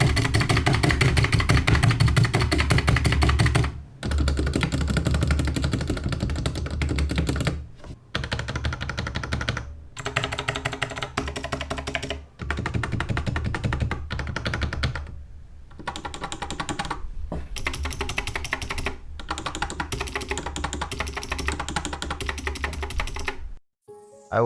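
Rapid typing on two 60% mechanical keyboards, the Skyloong SK64 and the RK61, a dense close clatter of keystrokes in bursts separated by brief pauses, with no talking.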